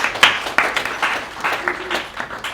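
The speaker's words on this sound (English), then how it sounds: "round of applause please to ThinkPlace and ThoughtWorks" Audience applause at a design awards event, a short burst of scattered clapping from a modest crowd that fades quickly, with some faint voices underneath.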